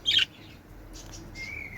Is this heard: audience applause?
no